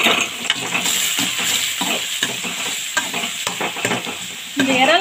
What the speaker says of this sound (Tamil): இப்போ இதில் ஒரு 2 பெரிய வெங்காயம் கட் பண்ணி அதோட சேர்த்துக்கலாம்.